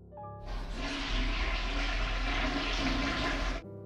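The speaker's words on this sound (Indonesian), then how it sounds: "dia juga mendengar suara gemericik air di kamar mandi." Water rushes steadily in a bathroom in the horror film Incantation, a loud, continuous gush with a sudden onset and abrupt stop, heard alone with no voices.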